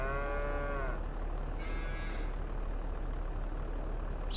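A cow in Farming Simulator 22 moos once in a long, drawn-out call, then gives a shorter fainter low, both over a constant low engine hum.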